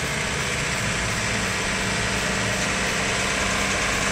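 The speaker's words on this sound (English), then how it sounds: "Revving up the tractor, revving up the truck." Tractor and truck engines running together, a steady loud mechanical drone with a dense low rumble and vibration throughout, no talk over it.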